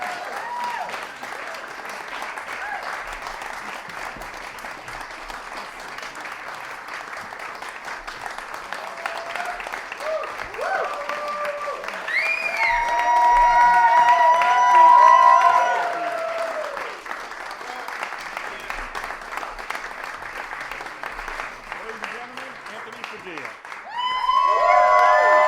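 An audience applauds after a live music performance in a small venue, sustained clapping throughout that swells louder midway with some cheers, while a voice speaks over it and musical notes sound intermittently.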